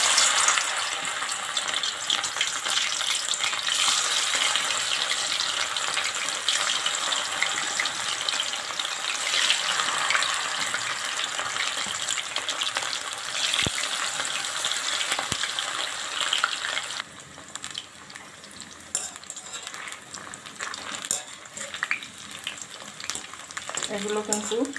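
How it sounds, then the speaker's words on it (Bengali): Pakoras fry in hot oil over a medium flame with a strong, steady crackling sizzle. It eases to a quieter bubbling partway through, with a couple of sharp clicks and little talk. "তেল গরম হয়ে গেছে, এখন পকোড়াগুলো মিডিয়াম আঁচে ভেজে নেব"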